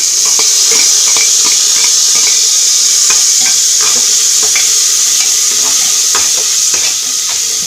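Onions sauté in a hot pan for tomato rice, a loud, close, continuous sizzle punctuated by repeated sharp spoon scrapes and taps against the pan, without speech.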